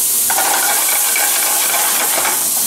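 Chopped onion sizzles in a hot skillet for shrimp scampi, a short burst of steady, close hiss and crackle with no voices.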